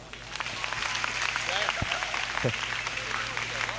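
An audience at a large educational event in Jharkhand claps under a steady electrical hum, with a voice talking over the applause in the middle.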